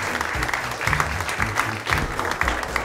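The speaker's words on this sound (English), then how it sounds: "Please give him a big round of applause." Studio audience applauding a guest's entrance on an Adelaide radio talk show, steady near clapping with a few cheers and whoops rising through it, lasting the whole stretch.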